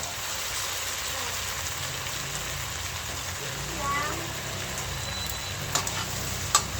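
Tofu fries in a pan, a steady, close hiss and crackle of hot oil that runs unbroken, with a few louder pops near the end.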